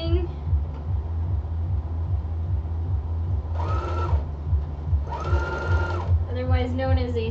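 Home sewing machine back stitching a skirt seam, its steady mechanical whir and rapid needle pulses running continuously at close range while a voice talks over it in short bursts.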